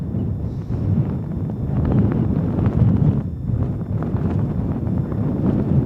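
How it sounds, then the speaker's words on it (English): Strong wind roars across a fell summit at Whinlatter in the Lake District on a wintry day, a steady low buffeting that gusts up and down against the microphone throughout. "I hope you can hear me over this wind."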